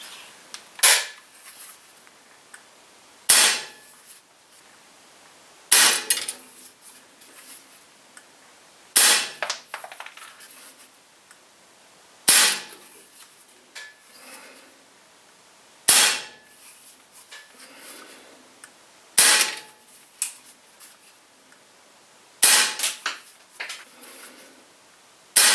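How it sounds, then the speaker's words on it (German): A Weihrauch HW75 target air pistol fires JSB pellets in a sharp, loud series of cracks spaced a few seconds apart, each followed by faint mechanical clicks and handling, with no speech. "Da wollen wir wieder 10 Schuss machen."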